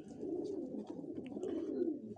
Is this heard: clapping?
no